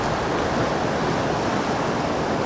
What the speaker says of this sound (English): There's another big wave coming in.